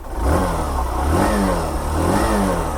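Hero Super Splendor Xtec motorcycle engine revved from close by, its exhaust note rising and falling through a few throttle blips over a steady idle, fairly loud with no voices.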